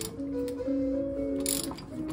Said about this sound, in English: Get your ratchet and just gently kind of evenly tighten it down.